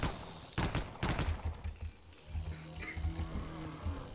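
Stationary cannons fire in the video game Opposing Force, with loud, rapid bursts of gunfire in the first second or so, then quieter, scattered rattling, and no talking.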